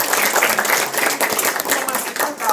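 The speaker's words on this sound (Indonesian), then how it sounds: "Tepuk tangan dong, betul gak?" An audience claps in dense, steady applause throughout a community presentation in Indonesia, with a noisy crowd wash that stays loud and fairly even from start to finish.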